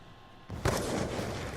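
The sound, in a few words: gunfire in the video game Call of Duty Black Ops 2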